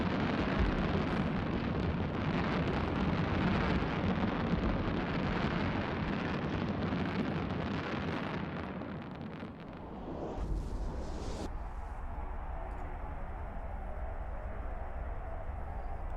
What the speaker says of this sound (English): What does that sound? It's fireworks.